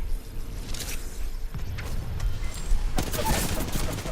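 Rapid bursts of gunfire in the battle royale game Apex Legends, several sharp shots and a volley near the three-second mark over a continuous game rumble.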